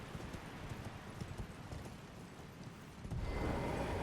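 Horse hooves clip-clop at a steady trotting rhythm in the video game Elden Ring, fairly faint and continuous, growing slightly louder and busier toward the end, with no talk.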